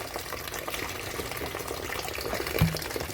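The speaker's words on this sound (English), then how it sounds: "I'm gonna pour some vinegar in the water here" Vinegar poured into a bowl of water for rinsing cut beef, a soft continuous liquid trickle and splash at close range with a brief louder splash near the end.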